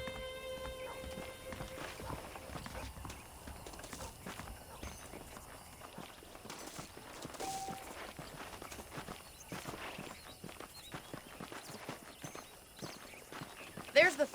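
Horse hooves clip-clop in the Western video game Red Dead Redemption, a faint irregular run of hoofbeats over ambient game sound.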